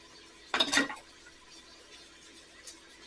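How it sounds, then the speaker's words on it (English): Rinsed beans tipped into a cooking pot land in one brief wet clattering splash, followed by a quiet background with faint small clinks. "I rinsed these beans and I'm going to put them in here"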